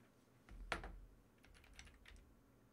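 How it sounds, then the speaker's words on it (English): Quiet typing on a computer keyboard, with a handful of soft key taps in a short, irregular burst and one slightly firmer press near the start; no talk. "I'm typing it in right now to have a look at it."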